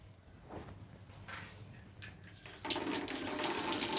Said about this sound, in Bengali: আমার কলটা ছেড়ে দিয়ে যাও